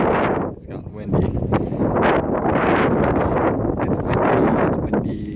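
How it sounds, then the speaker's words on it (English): Gusty wind buffets the microphone on a lake during a fall walleye fishing trip, a continuous loud roaring rumble with rising and falling surges. "it's gotten windy."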